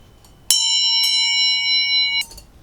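A small bell is struck twice in close succession, its clear metallic tone ringing and sustaining before a brief clatter ends it.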